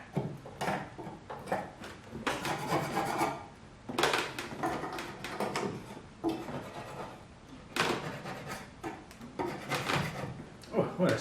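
A chisel scrapes an old hood pad off the underside of a Mercedes-Benz SL600 R129 hood, in repeated rough rasping strokes close by, coming in bursts with short pauses, while a person talks over it.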